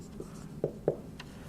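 Short scratches and a couple of taps of writing an equation on a board during a general relativity lecture, faint and spaced out over a quiet room.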